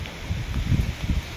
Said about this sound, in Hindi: तूफान भी बहुत है, हवा चल रही है